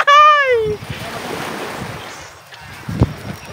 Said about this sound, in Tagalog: Andito na kami sa dagat.